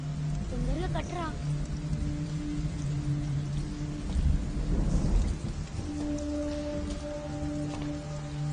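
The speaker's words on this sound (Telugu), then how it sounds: "వర్షం ఇప్పుడప్పుడే తగ్గేలా లేదు." Heavy rain pours steadily with rumbling thunder swelling midway, while voices speak over the downpour and a sustained musical tone hums beneath.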